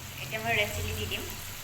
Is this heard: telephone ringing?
no